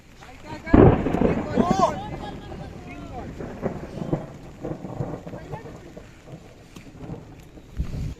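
A thunderstorm in Konkan with steady heavy rain and a loud, close crack of lightning followed by rumbling thunder, with voices speaking faintly at times under the downpour.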